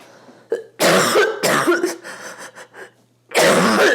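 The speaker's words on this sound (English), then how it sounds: "I'm still fucking coughing." Several harsh coughs in bursts, close and loud, with a short pause of quieter throat sounds between the fits.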